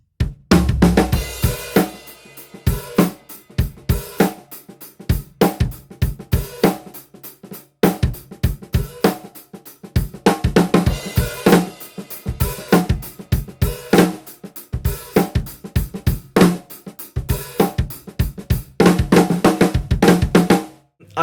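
A full drum kit plays a steady groove, with fat flammed snare backbeats cutting through the hi-hat and kick pattern, loud and close, continuous with no talking.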